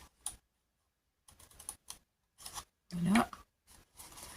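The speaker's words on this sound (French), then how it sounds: "J'ai coupé ma languette en deux." Scissors snip a paper tab in two, sharp short cuts separated by silences, with a brief spoken word near the end.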